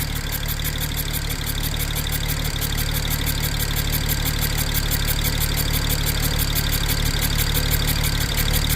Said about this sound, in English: Definitely a misfire, though.